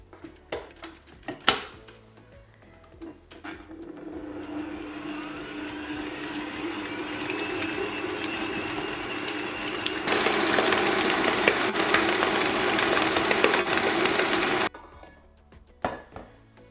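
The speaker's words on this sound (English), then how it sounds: "we're going to mix this till it's light and fluffy now for about 5 to 6 minutes" An electric stand mixer beats butter into Swiss meringue buttercream in a bowl, with a steady motor whir and rattle running about eleven seconds and growing louder partway through. Clinks of bowl and utensils come before and after it.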